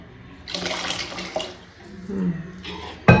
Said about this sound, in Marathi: तर आता अजून थोडंसं पाणी टाकते मी